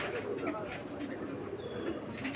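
Racing pigeons coo steadily at a breeders' farm, soft low calls blending into a dense, constant background with someone talking over them throughout.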